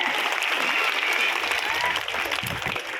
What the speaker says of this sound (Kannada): ಎಲ್ಲ ಚಪ್ಪಾಳೆ ಹಾಕಿ.